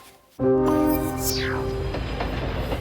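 A train running on rails in a film scene suddenly surges in, loud and close, with a sustained rumbling roar, tonal wheel squeal and a sweeping whine that carries on steadily.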